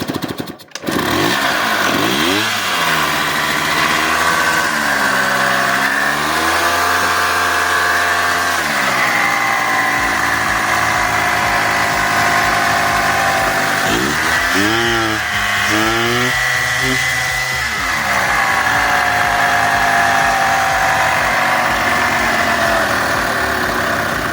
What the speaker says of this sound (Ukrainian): коли приходиш, запускаєш двигуна, вже підключив електрику